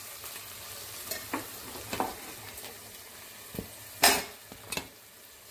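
Two sprigs of fresh curry leaves go into a hot pan with ash gourd pieces. A sharp burst of sizzling and spattering follows, along with scattered clinks of a utensil against the pan, close up and without speech.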